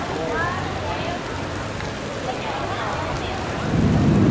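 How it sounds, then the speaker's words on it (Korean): Heavy rain pours down outdoors during a sudden storm in a Vietnamese street, a dense, steady hiss of water that swells louder near the end, with no talking. "비 오는 거 봐라. 우와, 물을 붓나?"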